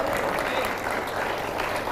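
An audience at an Islamic talk gives a short, steady burst of crowd clapping. The clapping is fairly loud and stays at an even level throughout.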